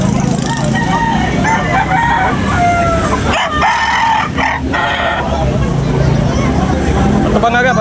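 A rooster crowing amid a busy chicken market with other fowl clucking, heard over a dense crowd babble and people talking throughout, the crow rising out of the noisy background.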